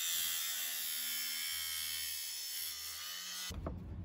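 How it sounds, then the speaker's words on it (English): A reciprocating saw cuts through the screws or nails holding an old door threshold on a pre-hung door, giving a steady, fairly faint high motor whine that ends abruptly in a short clatter. "Damn, the reciprocating saw. You can get that thing out nice and clean."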